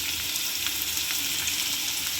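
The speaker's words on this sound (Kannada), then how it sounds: "ಚೆನ್ನಾಗಿ ಫ್ರೈ ಆಗಬೇಕು." Tempering for Karnataka village-style sambar fries in hot oil, a close, steady, continuous sizzle and hiss with no voices.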